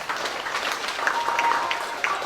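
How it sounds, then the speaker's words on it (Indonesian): Applause from an audience at an Indonesian business leadership gathering, a dense steady patter of clapping hands running throughout at moderate level with a few sharper individual claps standing out. "tepuk tangan."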